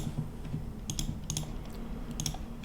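Keys clacking on a computer keyboard in a few quick bursts of typing, close and fairly quiet over a steady low hum, with no talk.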